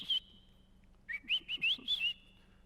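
A man whistles an imitation of bird calls, giving one long note followed by a quick run of five or six bright chirping notes, close and clear with no speech.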